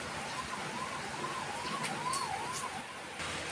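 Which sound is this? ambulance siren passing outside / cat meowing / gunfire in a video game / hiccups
ambulance siren passing outside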